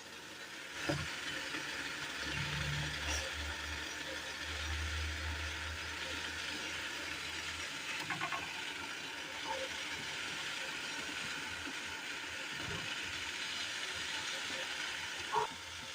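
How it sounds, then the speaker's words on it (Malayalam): Steady hiss of steam from boiling water in a covered idli steamer, with a low bubbling rumble underneath and a few faint clinks. "മൂടി വെച്ച് നന്നായി ഒന്ന് ആവി കയറ്റി വേവിച്ചെടുക്കാം."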